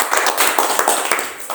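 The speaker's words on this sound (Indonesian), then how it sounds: "Beri tepuk tangan sekali." A church congregation claps together, producing a short, loud flurry of overlapping claps close by that quickly trails off.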